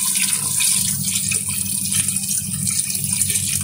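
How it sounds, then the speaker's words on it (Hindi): Water poured into a pot of beef curry, a steady, close splashing gush that runs continuously with no talk over it. "ये पानी हमने इतना डालना है जिसमें गोश्त भीग जाए हल्का।"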